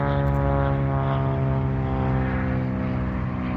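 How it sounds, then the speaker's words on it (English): A propeller airplane drones overhead, a steady, loud broadband engine hum with strong harmonic tones holding evenly throughout, no voices present. "There's a plane up there, like right up there."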